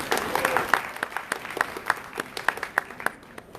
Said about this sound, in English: Clap your hands again